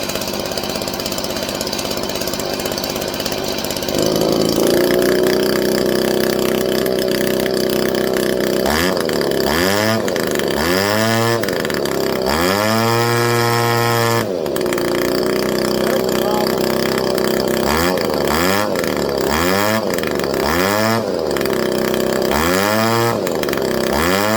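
A Stihl leaf blower engine runs close by and loud, starting as a steady idle and then revving up and down repeatedly in short bursts and one longer rise, with no talk.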